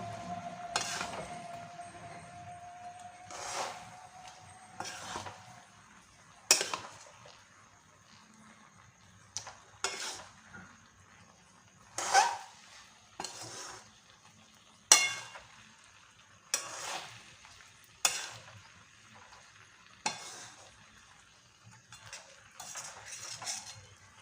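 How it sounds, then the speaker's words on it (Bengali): Sweet-sour jujube pickle stirred in a pan, a metal spoon clinking and scraping in repeated sharp strokes every second or two over a faint sizzle, close and fairly loud, no voices. "তো হয়ে এসছে ভালো করে নাড়িয়ে নেবো"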